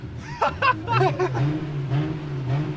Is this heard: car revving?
yes